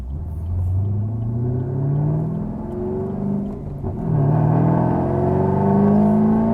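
A 2014 Chevrolet Camaro ZL1 with a 6-speed manual revs its V8 engine from inside the cabin, a deep rumbling rise and fall with a pause for a shift before a stronger pull.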